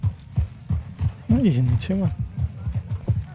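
Horse hooves clip-clop at a steady trot in Red Dead Redemption 2, a regular run of dull thuds close by, with a brief stretch of talk over the middle.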